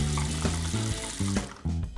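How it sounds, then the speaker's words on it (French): Water pours from a household tap into a sink in a steady close stream that shifts pitch in bursts as the flow hits the basin, with no talking. "Ferme le robinet, tu gaspilles de l'eau."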